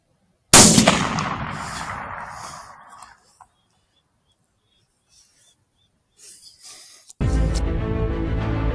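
A rifle shot fired at a red fox while predator calling outdoors: one sharp, loud report with a long rolling echo that fades over a few seconds, then near-silence, faint rustling, and finally a steady broadband noise.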